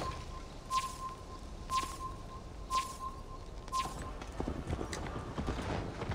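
Rhythmic horse hooves clop steadily while riding in the Viking-era game Assassin's Creed Valhalla, a regular trotting beat near and moderately loud with faint game ambience and a repeating chime.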